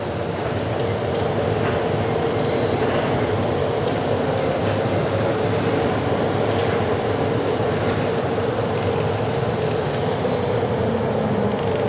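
Miami Metromover train riding the Inner Loop as it pulls toward a station, a steady loud rumble of wheels and motor with faint high squeals near the end.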